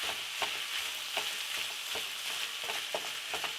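Thawed spinach being stirred into a pan mixture for stuffed shells, with a steady wet sizzle and repeated scraping strokes of the spoon at a regular pace, close and fairly quiet.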